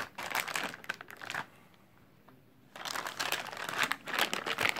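Plastic packaging around a black Power System PS4055 rubber training loop crinkles in two close bursts, with a short quiet pause between them.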